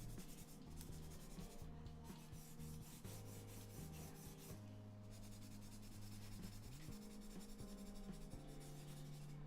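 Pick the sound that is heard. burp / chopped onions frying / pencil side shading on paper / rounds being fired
pencil side shading on paper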